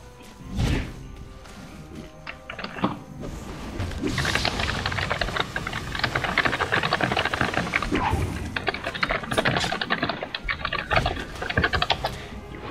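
Rapid keystrokes clatter on a computer keyboard during a League of Legends game, a dense close-up patter of clicks that runs almost without a break over background game noise, with no talking.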